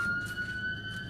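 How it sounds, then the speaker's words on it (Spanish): A police patrol car siren wails steadily outside on a street as the vehicle passes, a sustained high tone heard clearly over low background rumble. "porque va a pasar una patrulla"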